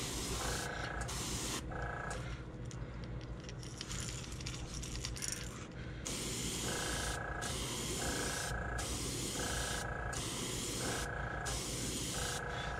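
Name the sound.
airbrush spraying brown paint onto a crankbait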